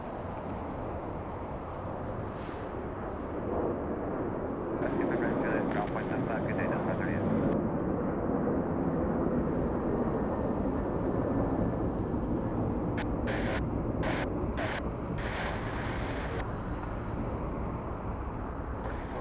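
An Alaska Airlines jet on the runway at LAX gives a loud, continuous jet roar that swells midway and stays steady, with people talking over it.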